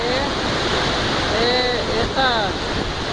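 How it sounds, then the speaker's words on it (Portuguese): A waterfall roars steadily as a continuous loud wash of falling water, with faint voice-like tones drifting over it. "essa cachoeira"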